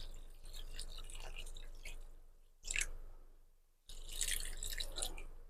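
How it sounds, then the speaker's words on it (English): Liquid poured into a pot, heard as close splashing, trickling bursts with a short pause partway through and a brief lull before the pour resumes more strongly; no talking. "let's see if I can pour this in here"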